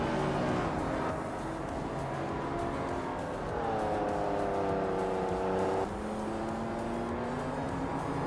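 Engines of video game race cars whine and drone as they speed past, pitch shifting up and down with gear changes and passes, a continuous close mechanical roar with no talking.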